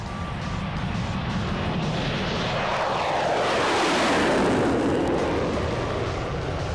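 A Saab Viggen military jet flies past at an air show, its engine a loud, broad roar that swells toward a peak midway as it nears and then fades slightly as it passes, with no voices.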